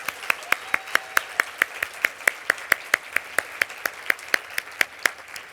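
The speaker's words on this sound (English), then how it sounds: "I want a round of applause for those two women" Applause honoring two women at an award event comes as crisp, evenly spaced claps in a quick, steady rhythm, fairly close and without any crowd roar or voices.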